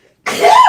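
A single close, loud sneeze bursts out abruptly from silence, sharp and short with a quick rising whoosh of breath.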